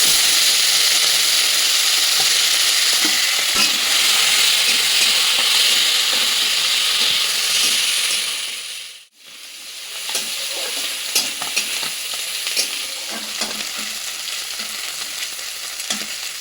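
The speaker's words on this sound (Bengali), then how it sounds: "চিংড়ি মাছগুলো ভাজা হয়ে গেছে, এবার তুলে নেবো।" Prawns fry in a hot pan with a steady, loud sizzle and hiss, broken by occasional stirring scrapes. The sound cuts out briefly partway through, then the frying resumes. No voices are heard.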